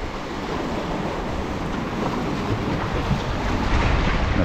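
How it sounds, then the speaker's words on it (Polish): Small sea waves splash continuously against a rocky shore at Castellón, a steady wash of surf mixed with wind noise on the microphone. "takie galante są te falki."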